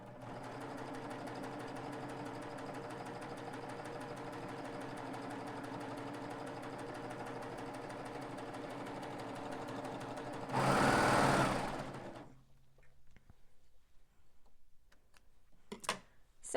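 A Babylock serger stitches a two-thread flatlock seam on knit fabric, giving a steady, fast mechanical whir with a fine ticking rhythm. It runs evenly for about ten seconds, swells briefly, then stops, leaving faint clicks and handling noises.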